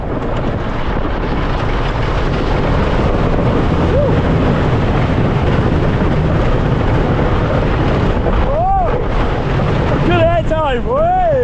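Thunder Run roller coaster at Kentucky Kingdom, a loud constant roaring rumble of the train and wind blasting across the mic, with riders' whoops and screams near the end.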